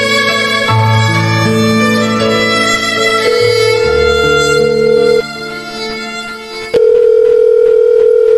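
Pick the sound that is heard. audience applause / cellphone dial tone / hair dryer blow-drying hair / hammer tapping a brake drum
cellphone dial tone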